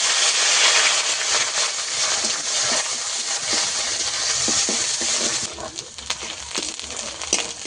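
Onions frying in hot oil with five-spice tempering for a fish dish, a steady loud sizzle that drops lower toward the end, with occasional utensil clinks and stirring.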